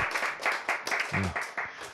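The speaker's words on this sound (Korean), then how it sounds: "박수" Listeners at a Korean lecture on brain cell regeneration clap briefly, a close, crisp patter of hand claps with a short low voiced murmur midway.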